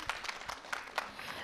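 A studio audience at a televised quiz show claps, a short burst of scattered, fairly quiet hand claps from a small crowd.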